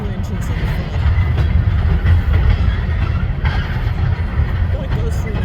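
A long, slow-rolling coal train hauled by two locomotives at the front passes near a campsite, making a steady, loud low rumble of wheels and cars with faint clanks throughout.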